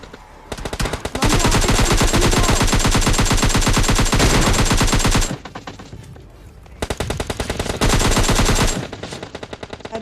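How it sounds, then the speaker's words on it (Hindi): Sustained automatic gunfire in a shooter video game rattles loudly in long rapid bursts, broken by short pauses and then resuming, close and dominant with no talk over it. "भाई सामने जहाँ गोली चली ना"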